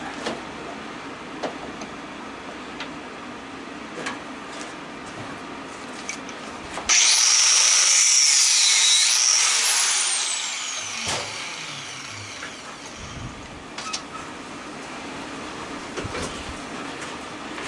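A power tool cuts through a metal BBQ grill being scrapped for brass and aluminum, a loud grinding burst lasting a few seconds over a quieter workshop background.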